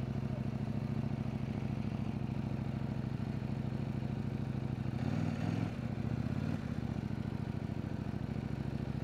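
A CF Moto motorcycle riding along sunny country hills, its engine humming steadily at a constant low drone with wind rumble, briefly rising in a throaty burst midway before settling back.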